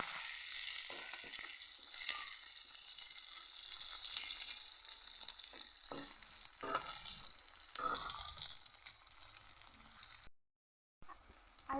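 Onions, dried red chillies and bay leaves fry in hot oil with a steady close sizzle, joined by occasional stirring scrapes and clinks, and a brief silent gap near the end.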